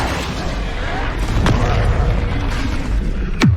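A Bombarda spell blast in the Hogwarts Legacy video game: a dense, loud rumbling burst with a sharp crack near the middle and another sweeping blast at the end, over continuous game noise.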